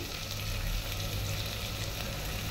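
Soybean curry frying in a pan while being stirred, giving a steady, close, dense sizzle throughout with a low rumbling bed and no voices.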